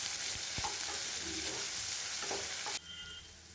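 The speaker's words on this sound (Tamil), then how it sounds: "ஒரு 5 நிமிஷம் லைட்டாக வதக்கி விட்டாவே போதும்." Vegetables for restaurant-style egg noodles sizzle steadily in a hot pan while a utensil scrapes and stirs them in a few soft strokes, close and continuous, before the frying noise drops away abruptly near the end.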